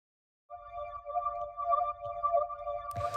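A deep minimal house synth pad holds steady sustained tones with a soft shimmer, entering after a brief silence and playing alone until a noisy burst at the end.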